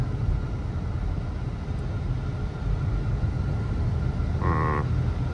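Steady, fairly loud engine and road rumble from a Dodge Charger with a 5.7 engine cruising on surface streets, holding an even drone throughout with a brief tonal whine near the end.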